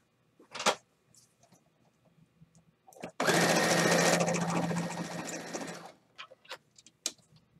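Sewing machine stitching quilt rows together, a steady close whir lasting a few seconds between quieter handling noises and faint clicks.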